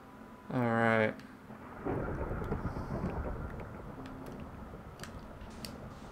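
A sharp crack of thunder from lightning in a building video game, loud and brief, followed by a lingering rumble that fades into a steady rain-like hiss.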